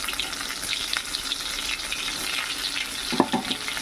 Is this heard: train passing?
no